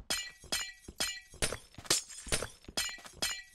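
Glass blocks breaking in Minecraft: a quick series of about eight sharp, bright shattering crunches at a roughly even pace, close and clear, with no talking.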